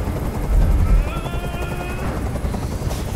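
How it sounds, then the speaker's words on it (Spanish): Helicopter noise in the video game Detroit: Become Human, a loud steady rotor drone with low thumping and whining tones, continuous for a few seconds with faint voices under it. "¡Dile a ese helicóptero que se vaya de aquí!"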